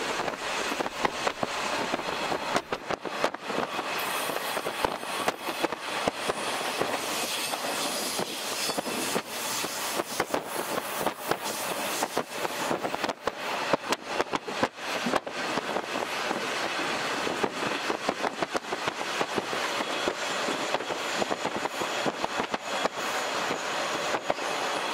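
A Japanese 50-series passenger-car night train rolls along steadily with rhythmic wheel clatter and a constant rush of wind through an open window, loud and continuous throughout.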